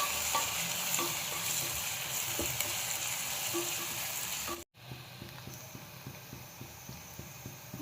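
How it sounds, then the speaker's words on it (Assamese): Ginger-garlic paste sizzles in a pan with browned onions for mutton curry, a steady hiss broken by a rhythmic series of spatula scrapes and taps, with a brief dropout midway before the frying resumes. "আদা নহৰু পেষ্টটো অলপ ভাজিব লাগিব।"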